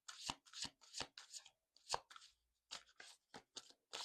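Quiet, crisp bursts of tarot cards being shuffled and tapped, irregular short flutters with brief silent gaps, close up.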